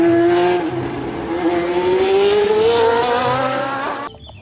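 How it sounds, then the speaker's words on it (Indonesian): Formula race car engine whining loudly as it revs and climbs in pitch with a slight tire-squeal edge, a single sustained pass that stops abruptly near the end, with no talking. "Wah, ternyata ada mobil formula."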